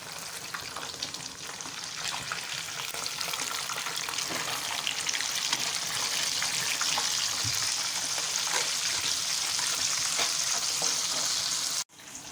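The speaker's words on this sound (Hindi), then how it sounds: "एक साइड से फ़िश फ्राई हो जाए तो साइड चेंज कर दें" Lemon-marinated fish fillets, Lahori style, frying in hot oil in a pan, with a loud, dense, steady sizzle and faint crackles that persist close up, cut off abruptly near the end, no talk.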